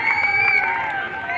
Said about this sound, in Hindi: देखिए जोरदार तालियों से स्वागत।